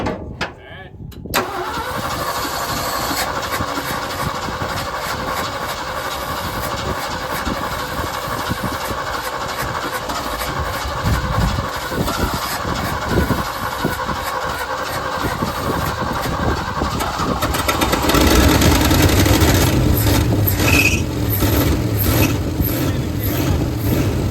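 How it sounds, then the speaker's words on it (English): A 1971 Ford F250, left sitting for years, cranks with a choppy starter rhythm and then catches into a steady running engine that grows louder and rougher toward the end, with people talking nearby. "Crank it over, Con."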